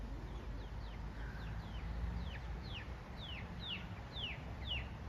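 Chickens make a run of short, rising-then-falling peeping calls, about a dozen in quick succession, fairly faint over a low background rumble.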